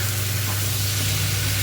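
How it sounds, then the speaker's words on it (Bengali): Spices frying in hot oil in a pan for a Bengali egg dish, a steady close sizzle with a low hum underneath and no talk. "একটু ভেজে নিই।"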